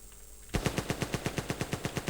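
AK rifle firing full-auto in a modded video game, a steady rapid string of evenly spaced shots, fairly quiet and alone without speech.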